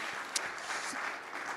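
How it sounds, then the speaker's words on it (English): Applause at a live launch event in Dubai, a steady broadband patter of clapping filling the room, moderately loud and sustained across the short stretch with no voices over it. "give a round of applause to these amazing gentlemen"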